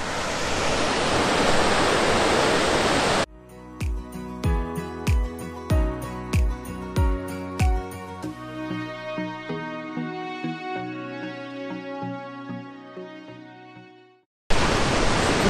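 Montmorency Falls near Quebec City roars up close as a loud, dense, steady rush of falling water, heard alone at the start and end with a long stretch of plucked music filling the middle.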